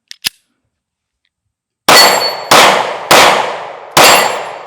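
Four loud sharp pistol shots from a Smith and Wesson Shield Plus at a shooting range, evenly spaced about half a second to a second apart, each ringing out briefly, after two faint small clicks and a pause.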